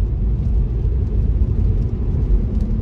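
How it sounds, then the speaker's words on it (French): A Tesla Model 3 on a road test after a hub carrier replacement gives a steady low rumble of tyres and road noise from inside the car, with no voices. "Alors, essai sur route, ça se passe bien, il n'y a pas de bruit suspect, ça accélère bien."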